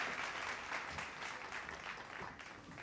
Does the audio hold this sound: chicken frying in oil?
no